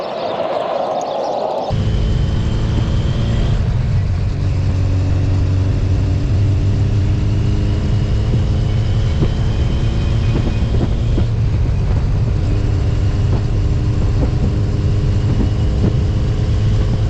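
A 1983 Kawasaki GPZ1100 motorcycle engine kicking into life after a short lead-in, then running steadily with a loud, even mechanical drone and a slight shift in pitch partway through.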